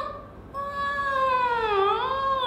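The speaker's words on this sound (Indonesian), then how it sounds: "suara jeritan wanita yang sangat lirih" A faint, eerie scream of a woman in a ghost-story setting, a drawn-out wailing tone that wavers and swirls up and down in pitch for about two seconds, heard alone.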